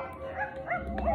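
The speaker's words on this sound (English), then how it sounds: "Dog!" A dog giving short, whiny barks and yips, close and moderately loud, in a brief burst of a few calls.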